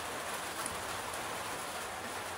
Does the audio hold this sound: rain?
yes